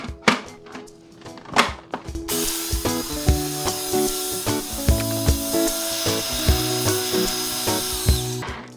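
A food processor whirs loudly and continuously for several seconds, pureeing walnuts with cake flour for a walnut cake, after a few sharp clicks and knocks as it starts; a rattling, shaken texture rides over the steady motor noise.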